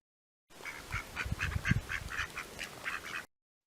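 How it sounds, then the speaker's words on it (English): A duck quacks in a steady series of short, evenly spaced calls, fairly faint over a low rumbling background, lasting a few seconds. "duck"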